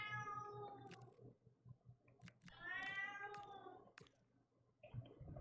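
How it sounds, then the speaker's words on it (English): A house cat meows repeatedly in the background: several drawn-out, moderately loud meows with pauses between them, heard while a football video game plays quietly underneath. "And as you can hear, Chester the cat in the background."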